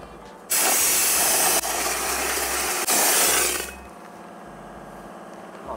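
Dry ice blaster cleaning a Honda Super Cub motorcycle, loud harsh blasting hiss in three close bursts with brief pauses, then cutting off to a quieter background hum.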